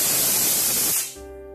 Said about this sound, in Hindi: तो 2 सीटी लग गई है और अब हम इसका प्रेशर निकलने का वेट करते हैं।